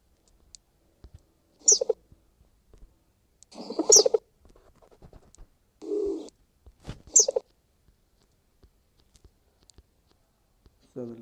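Birds from a Minecraft mod, heard as a few soft, separate coos and chirps with quiet gaps between them.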